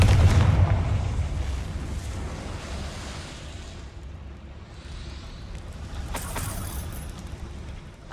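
A Confringo fire spell explosion in Hogwarts Legacy: a heavy low boom opens loud and rolls off into a long rumbling fade, with a sharper crackling burst near the end.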